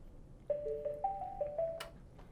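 A VoxSun office phone rings, a short electronic melody of stepped tones repeating over about a second and a half, fairly quiet in a quiet room.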